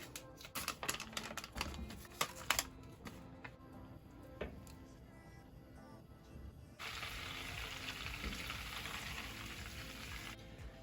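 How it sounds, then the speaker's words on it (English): Butter browns in a pan for toffee chocolate chip cookies, giving faint crackling pops and ticks at first, then a steady soft bubbling hiss that swells partway through and carries on to the end. "Now the brown butter."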